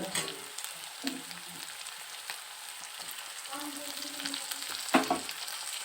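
Tomato goes into ginger-garlic paste frying in a village kitchen pan, giving a continuous sizzle with occasional stirring knocks and a louder burst of spatter near the end.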